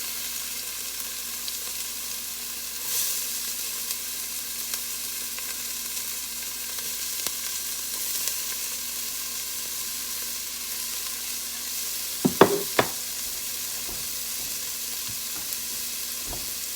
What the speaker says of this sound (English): I'm gonna let that saute for about 5 minutes.